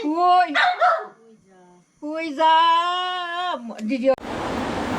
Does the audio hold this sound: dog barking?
yes